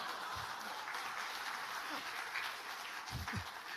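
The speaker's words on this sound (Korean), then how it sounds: "박수 한번 부탁드리겠습니다." Audience applause at a People Power Party rally, a steady wash of clapping from a crowd filling the room, with a few brief voice sounds rising above it near the end.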